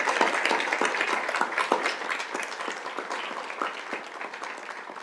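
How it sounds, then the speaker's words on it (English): An audience at a Peoria Unified school board meeting gives a warm, steady round of applause, dense clapping that slowly tapers over several seconds. "we want to give you a big round of applause as well"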